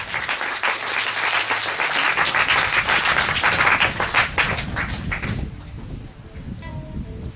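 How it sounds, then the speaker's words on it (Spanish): A church congregation gives a loud, sustained round of applause for the priest, dense clapping that fades somewhat toward the end as a few faint sounds remain. "Y dale un fuerte aplauso al Padre."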